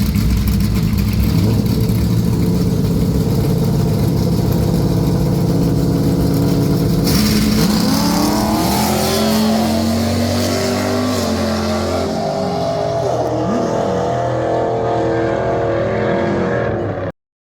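A Chevrolet F-Body drag car at Kuhnle Motorsports Park on opening day: a loud, continuous engine roar that climbs in pitch as the revs rise partway through, then holds steady until an abrupt cutoff.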